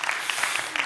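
Audience applause at a TEDx climate conference at Wageningen University, a dense steady patter of clapping across the whole second with a few sharper claps and a shout-like rise near the end.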